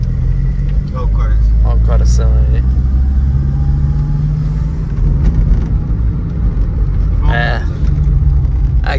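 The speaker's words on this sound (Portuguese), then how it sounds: "acelera dá pra ouvir um pouquinho mais. É que tá sem o filtro, né? De ar." A 1996 Chevrolet Kadett 1.8 EFI engine runs without its air filter, a loud steady low rumble close by, with people talking over it.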